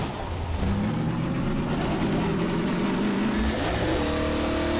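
Car from the Half-Life 2: Episode Two video game boosting, a loud continuous engine roar that rises in pitch and surges near the end, heard alone without speech.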